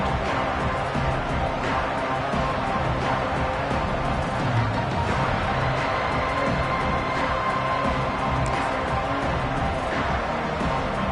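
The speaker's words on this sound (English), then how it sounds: "The Red Raider crowd rising to the occasion to help its defense on third down" The Red Raider home crowd at a college football stadium roars for its defense on third down, a dense, continuous wash of cheering and noise that holds steady throughout.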